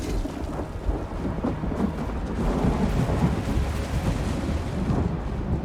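A thunderstorm rolls through the Blackwood region of the video game ESO, with steady rain hiss and deep, continuous rumbling thunder throughout, loud and sustained with no voices.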